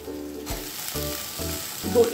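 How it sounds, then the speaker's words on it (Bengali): Chopped onions with crushed garlic frying in a pan, a loud steady sizzle broken by periodic stirring scrapes, with no talk. "এবার পেঁয়াজগুলো ভাজা হবে"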